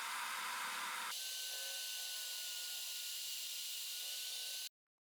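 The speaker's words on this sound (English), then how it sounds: "I have to trim the screws a little because I couldn't find any shorter ones" A power tool cuts screws down to length for a homemade X-Motion portable mortiser. It gives a steady high whine that shifts pitch after a second and then stops abruptly, close and continuous.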